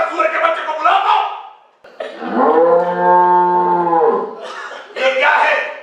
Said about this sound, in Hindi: तब भी ये बैल यहीं पे बंधा है